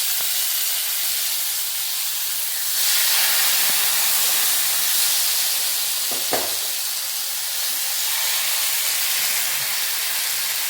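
Pomfret fish shallow-frying in a spoonful of oil, giving a loud, steady hiss and sizzle throughout, with a couple of brief clinks from a utensil partway through.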